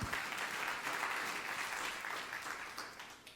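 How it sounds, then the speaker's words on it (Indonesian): A church congregation claps in a steady, dense wash of applause that fades slightly toward the end, heard from a distance in a large room. "Tepuk tangan yang meriah untuk kemuliaan nama Tuhan."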